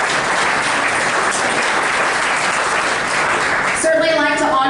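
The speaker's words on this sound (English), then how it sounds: "Give them a round of applause." Audience applause fills a county hall during a State of the County address, a steady dense wash of clapping that stays loud throughout, with a voice starting to speak near the end.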